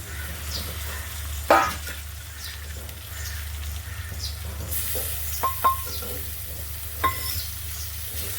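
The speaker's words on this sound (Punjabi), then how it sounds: "ਪਿਆਜ਼ ਭੱਜ ਗਿਆ ਆਪਣਾ ਟਮਾਟਰ ਪਾ ਦਿੰਦੇ ਹਾਂ ਵਿੱਚ" Tomato tipped into browned onions for a vegetable dish, crackling and hissing steadily in the pan, with a sharp stir knock and a few clinks.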